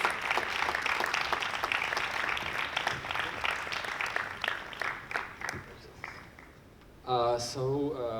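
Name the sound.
applause at an award ceremony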